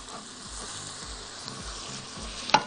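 A spoon stirs seasoned meat for a tagine with salt and pepper in a pot, giving soft rhythmic scraping strokes over a low sizzle. A sharp clink of the utensil against the pot comes near the end.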